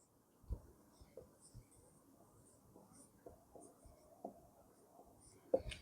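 Pen strokes writing formulas, faint scratchy taps and short scrawls in an uneven rhythm against a quiet room.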